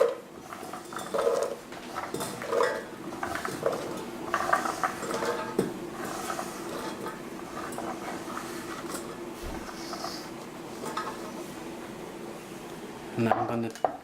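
Chopped carrots are tipped into a cooking pot, with scattered clatters and knocks of pieces and a utensil against metal, irregular and close, along with some light handling noise.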